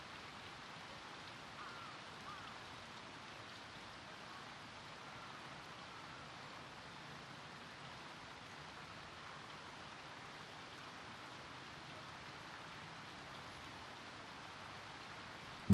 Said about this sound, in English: Rain falls for a whole week.